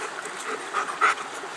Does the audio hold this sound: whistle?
no